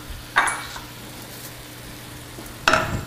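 White wine and cider vinegar hit a hot pan with two sharp bursts of sizzle, each fading quickly over a low steady frying hiss, with no talking.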